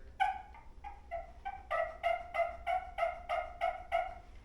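A handheld turkey call, worked by a hunter seated at the base of a tree, sounds a run of about a dozen raspy yelps, a few spaced notes building into a steady, evenly paced series, close and clear.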